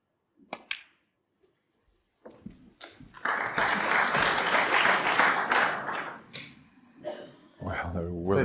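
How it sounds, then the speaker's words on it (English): Crowd applause in a snooker arena during a World Championship semi-final, rising after a few sparse clicks and lasting several seconds, with a commentator's voice heard over it and after it fades. "He's getting applause for a straightforward shot there"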